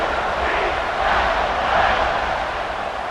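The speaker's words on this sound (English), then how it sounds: "this crowd now ready to get behind them" In the College Football 26 video game, a UCF vs North Carolina stadium crowd roars at kickoff, a broad, steady wash of cheering that swells slightly midway and holds at a loud level.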